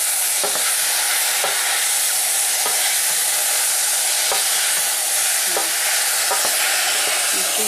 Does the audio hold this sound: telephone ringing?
no